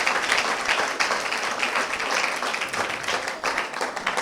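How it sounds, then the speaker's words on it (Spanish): Congregation applauding during a Spanish-language church service, dense continuous clapping from many people at close range, steady and loud throughout without pause. "Dele un aplauso a Jesucristo"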